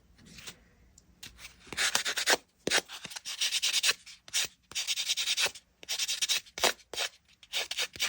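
A steel-wool-like polishing pad rubbed along thin jewelry wire for a wire-wrapped crescent moon pendant, giving bursts of soft, hissy scratching strokes in quick irregular succession, close and fairly quiet with no talking.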